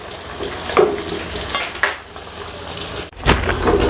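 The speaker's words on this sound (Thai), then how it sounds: "ตอนทอดคุณก็คอยกลับด้านไปกลับด้านมาเนาะ ไม่ถึงกับต้องยืนคนตลอด" Sun-dried beef strips frying in hot oil while being turned, a steady sizzle broken by scraping stirs and clinks of a utensil against the pan, close up and without talk.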